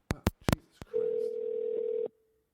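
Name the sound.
phone call ringing on speakerphone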